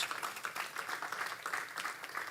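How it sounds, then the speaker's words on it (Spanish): A church congregation applauding during a sermon, a soft, continuous patter of many hands heard from some distance, fairly faint and steady across the short moment. "Den un aplauso fuerte a nuestro Dios."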